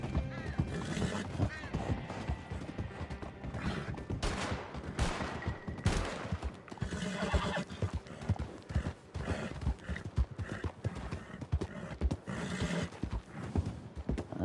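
Rapid clip-clopping hooves and agitated horse sounds with scattered bursts like gunfire, dense and busy throughout, from Red Dead Redemption 2 Online on PS5.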